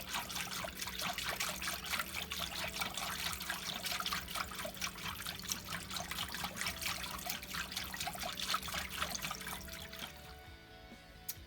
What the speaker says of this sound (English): you're going to add 2 tablespoons of canola oil slowly